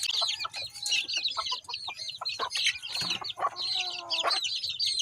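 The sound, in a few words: rooster clucking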